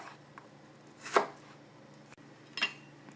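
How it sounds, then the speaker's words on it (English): A knife dices half an onion on a cutting board, giving two separate crisp chops about a second and a half apart over a quiet kitchen background. "It calls for a diced half onion."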